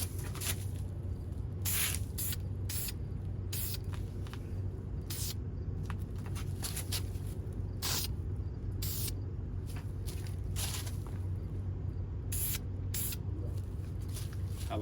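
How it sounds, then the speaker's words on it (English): Short bursts of aerosol spray apply a final coat of primer, in an irregular series of hissing blasts over a low background hum, close and moderately loud. "This will be my final coat of primer."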